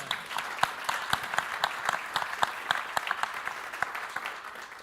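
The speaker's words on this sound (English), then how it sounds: "That deserves a round of applause." Mourners at a celebration of life give a round of applause, a modest, moderately quiet clapping with distinct individual claps standing out rhythmically over a softer, thinner bed of hands.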